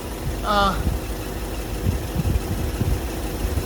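Ford Thunderbird engine idling as it warms up, a steady low rumbling idle close by, with a brief high chirping sound early on and a person talking over it.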